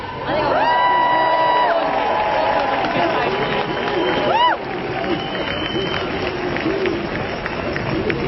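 A crowd of thousands at a COP26 summit protest cheers and whoops loudly, with a few whistles and shouts rising over the noise before it settles into a lower, sustained roar.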